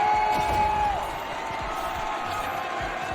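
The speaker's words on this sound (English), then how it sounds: "Make some noise for Team Queso." A large crowd roars steadily at the Rocket League RLCS Winter Major, a live esports event in a theater, a dense, continuous wash of cheering with faint tonal sounds beneath and no clear single voices.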